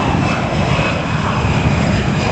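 A fixed-wing airliner roars loudly and steadily as it takes off from the north runway at Los Angeles International Airport, a broad continuous engine rush with no voices.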